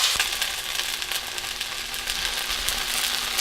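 Okra charring in a hot pan, a steady loud crackling sizzle with a constant hiss and small pops throughout, heard alone without talk.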